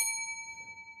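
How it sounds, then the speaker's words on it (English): Small handheld bell rung once as a timekeeper on a baseball talk podcast, a clear bright ding that rings on and slowly fades, alone with no talk. "And Brooks got her bell to make sure we stay honest and stay on time."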